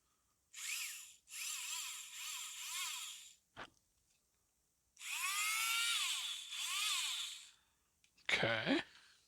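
A small battery-powered Tamiya hobby hand drill whirs in several short bursts, each revving up and winding down, separated by brief silences, with a louder grinding burst at the end.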